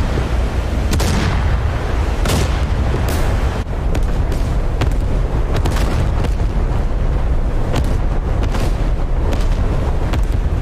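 Artillery bombardment in a war game set at Iwo Jima, a loud continuous rumble of heavy explosions with dense overlapping booms and sharper blasts throughout.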